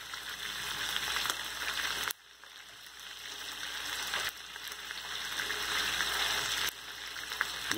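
Chicken pieces sizzle steadily in melted butter in a pan, a soft, constant crackle that briefly dips twice as the food is moved, with no voices.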